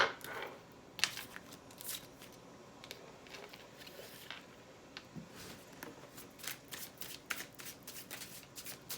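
Tarot cards are shuffled by hand in a run of soft, rapid riffling bursts and light flicks. The sound stays close and fairly quiet, with no voices.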